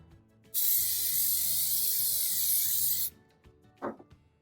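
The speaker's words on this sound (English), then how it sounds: "We're just going to spray this down." A steady, loud hiss of spray mount adhesive sprayed onto a book jacket lasting about two and a half seconds, followed by a brief rustle.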